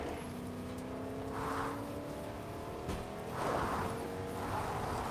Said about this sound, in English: Got concerned at first once I heard the engine, but yes, of course, Lasix has his own ride